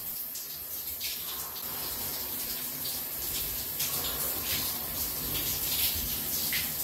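Cold shower water runs in a steady hissing spray, with splashy bursts as it strikes the body, close and continuous without any talking.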